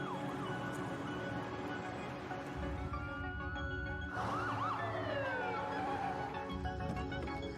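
Wailing ambulance siren from the Ambulance Life paramedic simulator game trailer, sweeping up and down loudly over a dense mix of engine rumble and game sound, continuous throughout.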